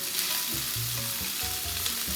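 Beef cubes sear in oil in a pot over high heat for beef bourguignon, giving a loud, steady sizzle with crackling spits that carries on unbroken.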